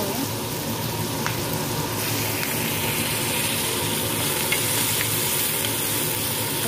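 Onion frying in oil tempered with green chilli and hing for a quick brinjal bharit: a constant dense sizzle and hiss, moderately loud and unbroken, with no talk.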